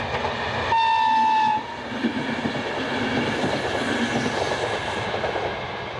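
A new train runs on rails in Ljubljana, Slovenia, first sounding a loud tonal horn for about a second, then rumbling and rolling past steadily and close.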